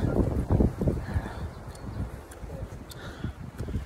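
Wind on a mountain trail in Seoul buffets the microphone in low, uneven gusts and rumbles, stronger at first and then easing into softer rustling.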